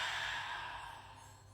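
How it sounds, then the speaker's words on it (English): A slow, soft exhale during a guided yoga breathing exercise, a faint, breathy rush of air that gradually fades out. "Exhaling it out."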